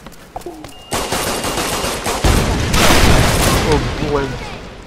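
A minigun fires in a video game: a sustained, dense roar of rapid gunfire that swells and continues for several seconds, loud and close, with a player's voice talking over it.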